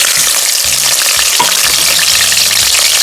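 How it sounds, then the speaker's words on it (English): Grated onions hit a hot pan for a Nigerian bole pepper sauce, giving a loud, steady sizzle of frying throughout, with soft stirring and scraping sounds over it. "So I'll put in the grated onions first."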